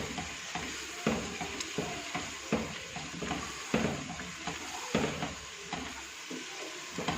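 Chicken handi, dhaba style with mint and a spoonful of yogurt, sizzles in a pot as a spoon stirs with repeated scraping knocks at a steady pace, close and fairly quiet with no talking.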